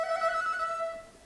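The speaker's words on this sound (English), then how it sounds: "Trill sounds like this." An erhu plays a quick trill, a bright bowed tone flickering rapidly between two close pitches for just over a second, clear and alone.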